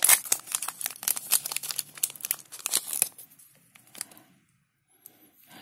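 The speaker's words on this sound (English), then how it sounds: "I'm very carefully open the envelopes" Paper envelopes opened carefully by hand, with dense crinkling and tearing rustles for about three seconds, then a few sparse crackles trailing off into near silence.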